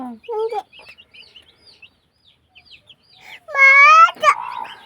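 A hen and her newly hatched chicks at home: short soft clucks and faint peeps scattered through near-silence, then a loud, close burst of harmonic cackling near the end.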